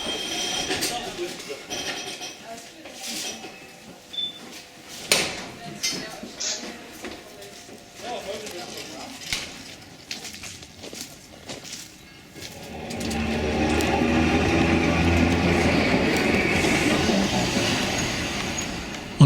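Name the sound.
Rittner Bahn narrow-gauge train departing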